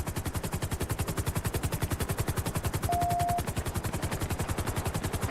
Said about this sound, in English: he's actively shooting